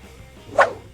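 A dog that had fallen into a canal gives a single short bark, moderately close and clear against a quiet background.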